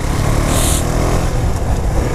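KTM Duke 390 motorcycle on a highway, its engine drone and exhaust buried in loud, broadband wind roar; a constant, heavy rumble with no distinct revs and no talking.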